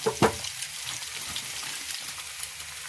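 Mustard leaves go into a pan with mutton and potatoes and fry with a loud initial hiss and a few crackles, then settle into a steady, even sizzle close by.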